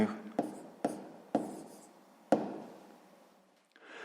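A pen writes out a sixth-grade math solution on paper, with four sharp taps spaced about a second apart and soft scratching strokes between them, close and quiet.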